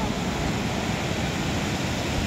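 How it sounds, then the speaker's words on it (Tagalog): Strong sea waves along the Batangas coast make a steady, dense wash of surf noise, constant and moderately loud with no distinct breaks or voices. "Malakas yung alon."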